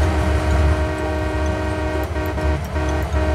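A train in the video game Farming Simulator 19 runs with a loud, steady droning rumble of engine and wheels, held evenly throughout without pause.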